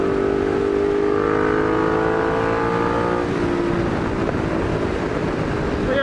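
A Lamborghini Murcielago drives past on a Southern California street. Its engine drones loudly, then the pitch slides down as it goes by, fading into steady road noise.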